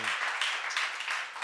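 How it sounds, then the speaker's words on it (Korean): A church audience claps in a dense, steady burst of applause that lasts for a moment at moderate volume, and the room echoes a little. "박수 하세요."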